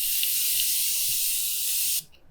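Makeup setting spray mists from a distance in one long, steady, close hiss that cuts off abruptly near the end, followed by quiet.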